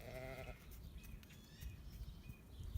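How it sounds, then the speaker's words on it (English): Market lambs bleating on a homestead farm, one clear bleat at the start followed by fainter calls over a busy outdoor background. "The yellow tags on their ears mean that they are market lambs."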